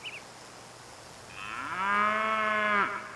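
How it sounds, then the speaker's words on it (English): A sick cow on a pioneer homestead gives one long, loud, close moo that swells and then cuts off, after a short faint chirp at the start. "And the cow just isn't... keeps mooing."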